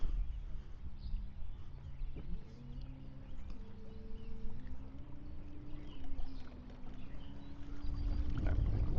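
NuCanoe Unlimited with a Newport NK300HD electric motor running on open water at quarter throttle: a faint steady motor hum whose pitch slowly climbs, with water rushing and splashing below, building louder near the end.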